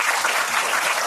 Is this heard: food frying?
no